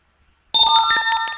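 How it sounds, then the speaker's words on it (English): An Android heads-up notification chime rings out suddenly after silence, a bright, tonal electronic alert that stays loud and close with a few soft clicks underneath. "It's a heads up notification which came because I gave the priority as high."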